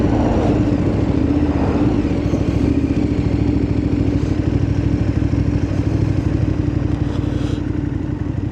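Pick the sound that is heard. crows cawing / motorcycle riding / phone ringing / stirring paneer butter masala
motorcycle riding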